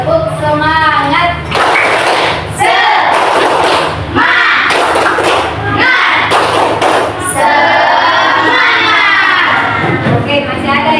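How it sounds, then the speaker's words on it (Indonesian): A classroom of children doing a rhythmic spirit clap, loud patterned claps and thumps mixed with shouted chanting from the group, filling the whole stretch with a few brief pauses. "Tepuk semangat"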